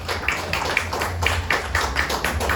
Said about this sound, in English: How about a warm round of applause for Gilas Pilipinas Head Coach,